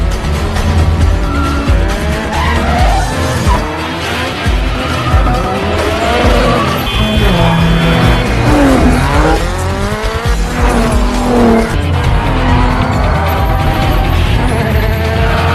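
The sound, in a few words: car chase with tires screeching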